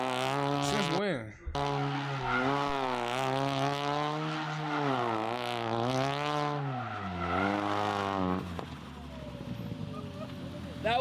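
A big-turbo Ford Focus RS drifting, its engine note rising and falling through repeated revs with tire squeal mixed in, loud and close for about eight seconds before cutting off sharply near the end.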